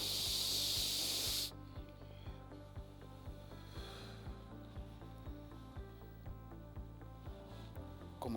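A long, loud breath is blown out during a slow breathing exercise, a steady rushing hiss lasting over a second before it cuts off, leaving soft rhythmic music pulsing underneath.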